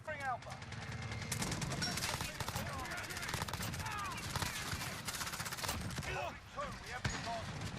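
Rapid gunfire in the Call of Duty Modern Warfare multiplayer with an MP7 submachine gun, dense overlapping bursts and shots running nearly continuously under game chatter and voices, loud and busy throughout.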